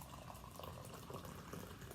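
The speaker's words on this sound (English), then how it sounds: "So we are going to go ahead and pour out 2 cups of water." Two cups of hot water pour quietly in a soft, continuous trickling wash, faint and steady throughout.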